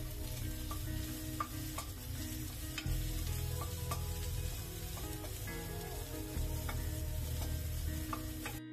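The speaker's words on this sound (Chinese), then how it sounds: "先将烟熏培根下锅慢煎，把油逼出来，再加进去一大把切碎的红葱头去爆香" Smoked bacon and chopped shallots fry slowly in a pan, giving a steady close sizzle with soft stirring scrapes and small pops throughout. No one speaks.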